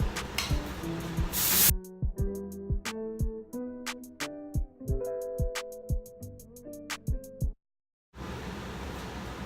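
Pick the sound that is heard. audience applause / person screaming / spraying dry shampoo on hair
spraying dry shampoo on hair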